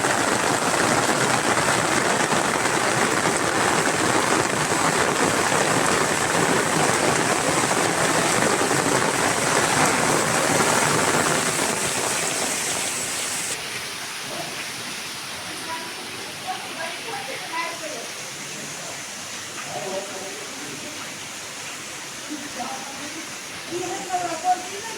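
Heavy rain falls on a village in Rajavadar, a dense steady hiss at first that eases into a quieter patter with scattered drips later on.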